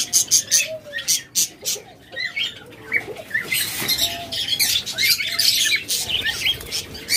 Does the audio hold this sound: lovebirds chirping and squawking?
yes